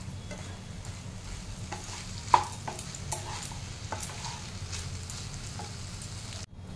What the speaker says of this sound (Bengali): আবারও এটা ভালো করে মিক্স করে নেব।